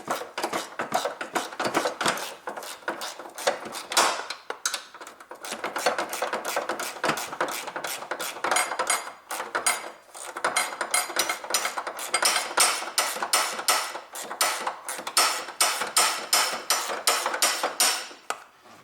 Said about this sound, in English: in here I can use this spanner tool. There is ratch in here.